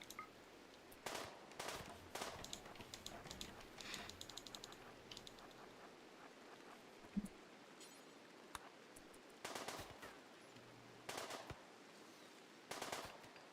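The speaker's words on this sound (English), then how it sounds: "So, Mr. Crudeo, do you want to gun down a turkey with me?" Gunfire in RimWorld Odyssey as a turkey is shot, heard as sharp, faint bursts of rapid shots scattered irregularly over a quiet background.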